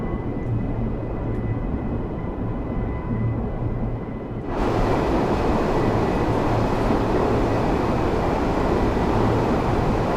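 A train runs on the Edinburgh–Glasgow route in Train Sim World 5, a loud steady rumble of wheels and motor that grows fuller and louder about halfway through, with no talking.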